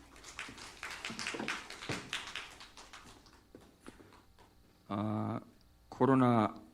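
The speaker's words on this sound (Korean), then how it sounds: "박수로 하나님께 영광 돌리겠습니다." A church congregation at a Sunday worship service breaks into steady applause after a spoken prayer, a dense patter of clapping, and a loud sustained tone sounds twice near the end.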